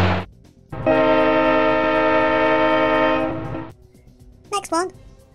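A LEGO City train blasts a long, loud, steady horn chord lasting a few seconds, preceded by a short clatter and followed by a quiet rumble and a brief animated voice.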